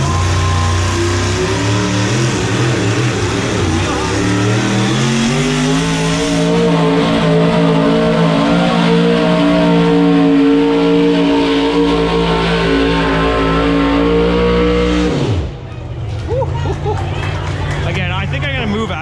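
A loud, roaring alcohol-injected race engine revs hard and climbs in pitch for a long stretch at a fall fair pull, then drops abruptly, with crowd noise underneath.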